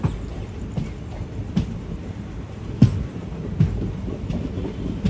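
Palakkad to Tiruchendur Express leaving the station onto the Pollachi line, heard from inside an unreserved carriage: a loud, constant rumble with occasional wheel clacks and rattles.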